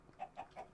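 Chickens in the Minecraft Sky Factory modpack give three short, evenly spaced clucks, close and clear with nothing else over them.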